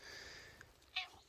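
A cat meows briefly and softly in a forest garden, a short faint call rising out of quiet outdoor ambience with a fainter chirp just before it.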